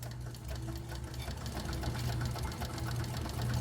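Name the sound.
sewing machine sewing a messenger bag seam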